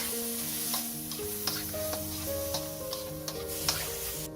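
Meat stirring and frying in hot boiling oil at a roadside street food stall in Sudan at midnight, a steady loud sizzle with irregular clinking stir strokes and faint tones over it.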